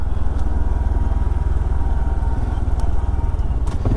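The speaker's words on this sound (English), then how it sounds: "one of my favorite things about the CT125 is how it handles off-road" A Honda CT125 motorcycle rides an off-road trail loop, its small engine putting out a loud, steady, rapid putter close by with no letup.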